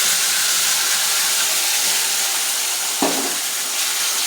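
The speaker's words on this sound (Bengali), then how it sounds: "তো এখন আমি মশলাটাও দিয়ে দিচ্ছি।" Spice paste of ground onion, garlic, chilli and cumin sizzles steadily in hot oil in a Bengali home kitchen, a continuous close hiss with one brief louder crackle partway through.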